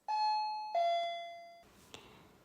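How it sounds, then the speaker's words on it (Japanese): Front door intercom doorbell chime, a clear two-tone ding-dong with the second note lower and ringing out before fading, followed by a faint click, heard close and alone. "今の音はインターフォンの音です。"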